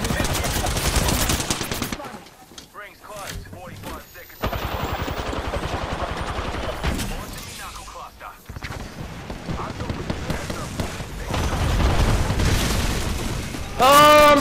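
Havoc rifle gunfire in the video game Apex Legends, loud rapid bursts and booms filling most of the clip, with excited voices talking over the shooting.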